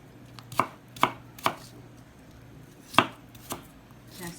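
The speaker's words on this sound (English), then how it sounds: "Slice it up, roughly slice it." A knife roughly slicing cranberries on a cutting board, six or so distinct sharp chops at uneven intervals, close and clear with quiet pauses between.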